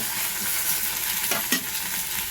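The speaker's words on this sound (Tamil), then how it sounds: "இது நல்லா வதக்கணும்." Karpooravalli leaves sizzle steadily in a hot pan as they are sautéed and stirred for chutney, a close, even frying hiss with a couple of soft scraping stirs.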